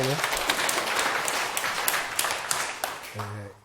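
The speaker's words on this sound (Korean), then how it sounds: "박수 한번 예. 치세요." A burst of audience applause at a lecture, dense clapping from many people that swells and then fades, with a voice briefly heard at the end.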